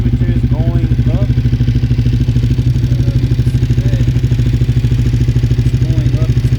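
A motorcycle engine idles close by after an oil change, a steady, rapid, even pulsing that runs the whole time, with a voice faintly over it.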